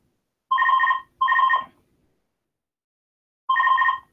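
A telephone rings with a classic double-burst trill, two close warbling rings followed by a pause and another ring, loud and clear with no talking.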